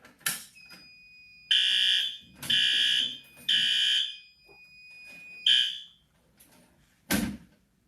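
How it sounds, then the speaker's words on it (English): Fire alarm system in an electrical training lab, set off from a pull station: loud repeated horn blasts with a high whooping tone, several long bursts separated by short gaps, plus a couple of sharp clicks, close and with no talk. "Well, it looks like we have a complete working fire alarm system."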